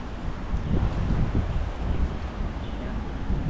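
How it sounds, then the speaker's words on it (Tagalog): Steady, heavy wind roaring and buffeting close to the microphone beside an outdoor cooking fire, a continuous low rumble that persists throughout without letting up. "Lakas pa ng hangin."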